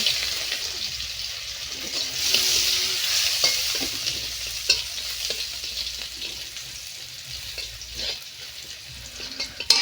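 Garlic sizzling in hot oil in an unwashed karahi as it is stirred, a bright steady frying hiss with scattered spatula scrapes and clicks, close by, with no talking.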